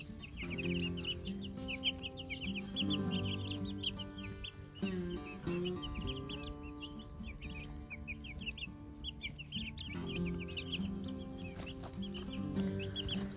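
Chicks and chickens cluck and peep continuously, the chicks squabbling over an earthworm, producing dense overlapping high chirps and lower clucks that are close and moderately loud throughout, with no voices.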